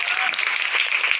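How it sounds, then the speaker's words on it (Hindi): An audience applauds at a school award distribution ceremony, producing brief, dense clapping that fills the whole moment without letup. "तालियों से इस्तकबाल"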